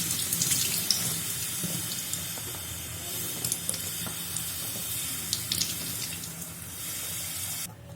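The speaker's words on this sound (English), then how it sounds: "We are filling water right now." Tap water runs steadily into a bottle at a sink, a continuous splashing hiss that holds for several seconds and then cuts off near the end.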